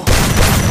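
A loud burst of gunfire erupts in a mobile shooter game after a brief quiet start, sustained and dense to the end.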